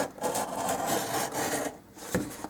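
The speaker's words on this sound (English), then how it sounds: "You just run your knife along the edge of your wall." A craft knife drawn along the edge of a dollhouse wall to trim dried wallpaper, producing a close, continuous rasping scrape with small pauses and no talking.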